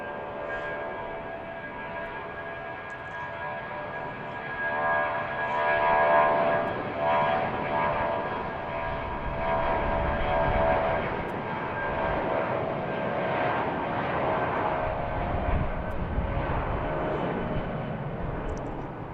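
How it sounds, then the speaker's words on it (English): A United Airbus A319 departs BWI bound for Chicago, its engine roar building and holding as a broad, rumbling drone with a faint whine, moderately loud and steady for the whole stretch, without voices. "we have a United A319 heading out to Chicago"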